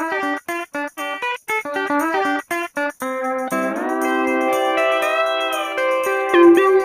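A voice mimics a tow truck: a rapid series of clipped, stuttering vocal pulses gives way to a steady, buzzing, engine-style hum that holds and wobbles in pitch until the end.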